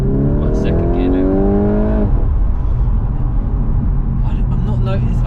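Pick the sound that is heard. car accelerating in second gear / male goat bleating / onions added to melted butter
car accelerating in second gear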